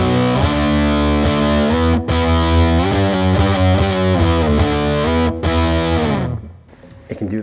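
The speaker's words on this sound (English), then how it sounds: "so that has a huge range if you want those sort of 70s real fat sort of fuzz sounds." Electric guitar played through a Fender The Pelt silicon fuzz pedal: thick, heavily saturated sustained chords with brief gaps, loud and dense, fading to quiet string noise at the end.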